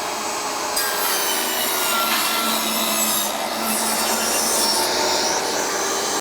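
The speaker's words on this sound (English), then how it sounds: "you can run them through the saw a lot faster" Saw cutting grooves into wooden deck boards, a loud continuous rasping rip through the wood with slight changes in pitch as the board feeds through, no talking.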